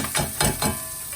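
Fresh ginger and pepper sizzle in a hot pan while being stirred, with three short scraping pulses of stirring over a steady background hiss, close and moderately loud.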